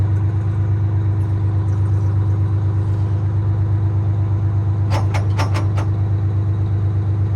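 A Thibault ladder truck engine runs at a steady mid-pitched idle while the ladder is raised, a constant rumble with a few sharp metallic clicks near the end.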